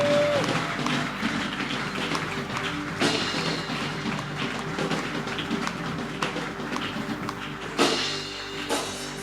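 Church congregation standing to cheer and applaud at a worship service, a dense continuous wash of clapping and crowd noise with scattered whoops, steady and fairly loud throughout.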